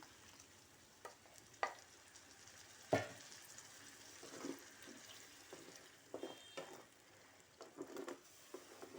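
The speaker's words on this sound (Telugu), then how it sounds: "మనం దీంట్లో పాలకూర మనం మిక్సీ పట్టుకున్నాం కదా, అది వేసేస్తున్నాను." Raw spinach purée tipped into a hot pan and stirred, giving a quiet frying sizzle with a few spoon scrapes and a sharp clink near the start, close but low in level, without talk.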